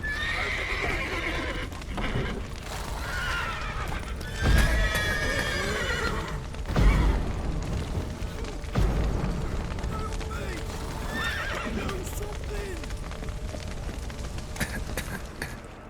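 In The Witcher 3, horses whinny repeatedly amid a steady roar and crackle of a burning stable with a collapsed roof, with hooves clattering and voices shouting underneath, loud and chaotic.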